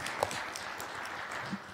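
Audience at a city council meeting claps in a steady, moderately close patter of many hands, briefly joined by a faint voice.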